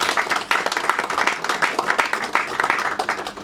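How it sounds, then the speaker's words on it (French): A church congregation gathered for a family's father breaks into lively applause, a dense, steady patter of many hands clapping close by, with a few voices mixed in. "Est-ce qu'on peut acclamer pour vous-même, s'il vous plaît?"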